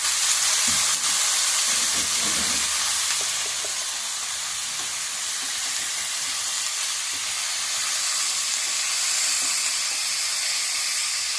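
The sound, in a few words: cauliflower pieces frying in a pan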